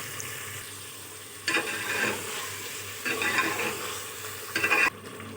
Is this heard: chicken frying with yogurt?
yes